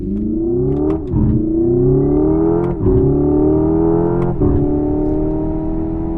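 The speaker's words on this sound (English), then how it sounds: "next up we got the Hyundai Ioniq, or however the fuck you say it" A Hyundai Ioniq electric car emits a steady, synthetic droning tone that slowly rises in pitch like an accelerating engine, loud and continuous, with a few brief clicks or shifts along the way.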